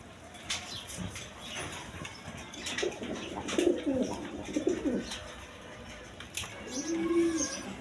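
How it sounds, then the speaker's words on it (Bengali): A pair of big Rajgolla pigeons coo in a loft, their low rolling calls rising and falling in short bursts over steady background noise. "এখানে এক পেয়ার রাজগোল্লা কবুতর আছে"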